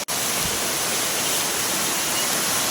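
Loud, close roar of a second waterfall pouring down, a dense continuous rush of falling water that stays steady after a brief dropout at the start.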